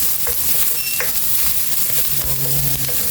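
Onion and garlic fry in hot oil while being stirred, giving a continuous close sizzle broken by scraping and clinking from the utensil, with no talking.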